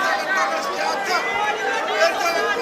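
Crowd at a Premier Boxing League fight, a broad murmur of voices and chatter rather than sharp cheering, steady and moderately loud across the whole stretch.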